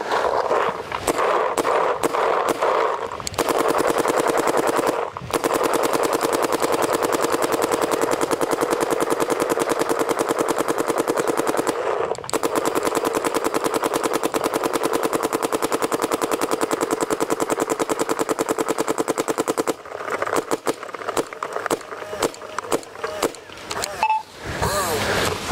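A DLX Luxe X paintball marker fires long, rapid streams of sharp popping shots, loud and close, with brief pauses between bursts and a scattered string of single shots near the end.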